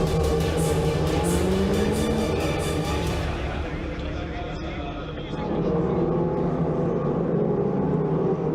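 Ferrari Challenge race cars drone past on the Mugello circuit in a continuous engine roar that dips and swells as they pass, heard under steady commentary.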